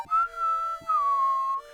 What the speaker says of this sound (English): the whistle from Super Mario 3